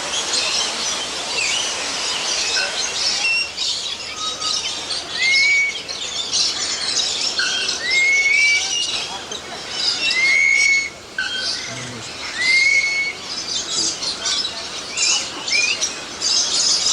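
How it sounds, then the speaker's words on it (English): Dense chorus of many birds calling and whistling inside a giant walk-through aviary at Jurong Bird Park, with repeated rising whistles over a constant bright chatter. "if the volume of noise they make indicates satisfaction, then these birds have no complaints at all."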